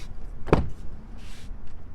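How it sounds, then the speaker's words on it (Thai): A Toyota Vios car door opens with a single sharp latch click and thunk, followed by a brief soft rustle, close to the microphone in an otherwise quiet setting. "เปิดประตูเลย"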